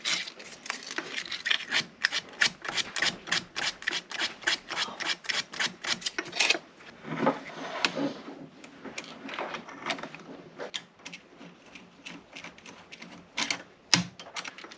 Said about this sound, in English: Take a tiny piece of sandpaper